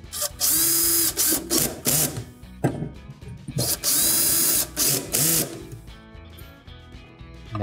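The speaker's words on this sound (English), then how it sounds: "resecure the burner base with the 2 T15 screws we removed earlier" Screws being driven back in to fasten the burner base of a Viking gas cooktop with two T15 Torx screws, heard as close, repeated bursts of ratcheting and scraping, with short pauses between turns.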